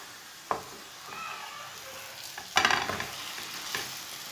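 A jaggery-stuffed paratha fries on medium heat in a little oil, giving a soft, close sizzle broken by a few sharp scraping and flipping clicks.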